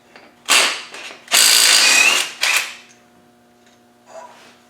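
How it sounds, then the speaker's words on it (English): Ratchet wrench backing a bolt and nut off the timing belt cover of a Land Rover 300Tdi engine, in three bursts of loud rapid clicking, then a short faint mechanical rattle, with no talk. "I'll take this bolt out of here and the nut off there"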